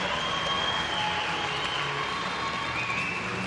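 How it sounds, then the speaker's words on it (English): Applause for a diver at the 2018 European Championships women's 10m platform preliminary in Glasgow, a dense, even wash of clapping from the crowd with light cheering, steady for several seconds. "Bit of relief there in that applause"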